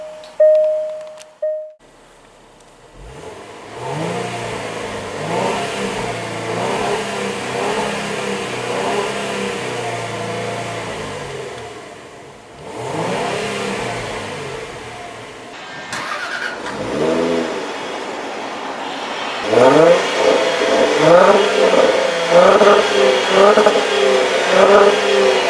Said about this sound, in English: And the V6 roars to life.